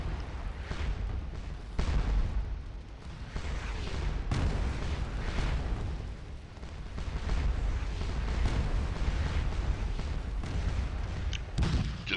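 Musket volleys and artillery in the Civil War strategy game Scourge of War: dense, continuous rumbling gunfire with repeated booms and crackling shots layered throughout, loud and unbroken, with no voices.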